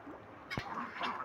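A duck near a pond gives a single short, close quack midway through, set against quiet outdoor background noise.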